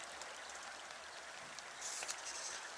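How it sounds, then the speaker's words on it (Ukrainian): Light spring rain beginning to fall outdoors at a fishing spot, a faint, steady hiss of fine drops with a few soft pattering taps and no voices. "Трохи починає дощик падати."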